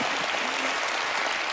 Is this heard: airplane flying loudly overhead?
no